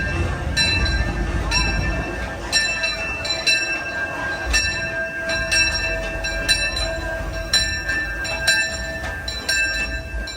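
A Disneyland Railroad train pulls into Main Street Station, its bell clanging repeatedly in a steady rhythm over the rumble of the engine and wheels, with faint crowd noise behind.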